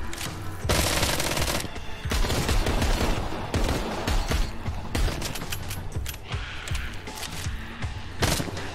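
Rapid automatic gunfire and scattered single shots ring out in the VR zombie shooter Arizona Sunshine, loud, dense volleys of bursts firing almost continuously.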